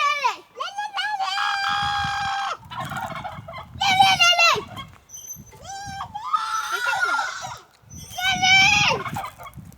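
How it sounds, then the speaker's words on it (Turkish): Loud turkey gobbles ring out repeatedly in a park, in bursts with short gaps between them, close by, with a low rumbling background underneath. "Hindi cevap veriyor."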